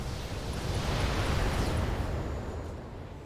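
An LRM ammunition explosion in the Battletech video game erupts as a broad, rumbling blast that swells and slowly fades over a few seconds, heard alone without voices.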